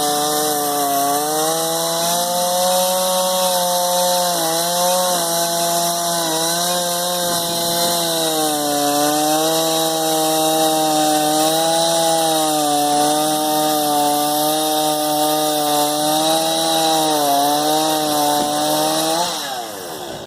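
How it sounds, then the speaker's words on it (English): A repaired Stihl MS 181 C-BE chainsaw runs continuously near and loud for about twenty seconds, its engine note wavering slightly before dropping off at the end. "The chainsaw is finally back in working order. It sounds, feels and behaves like a regular chainsaw again."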